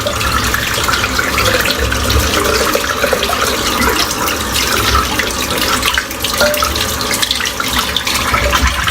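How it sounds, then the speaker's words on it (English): Running tap water pours steadily and loudly as soap lather is rinsed out of a tie-dye shaving brush at a sink, a continuous splashing rush with no talk over it. "I'm just going to rinse out the soap now."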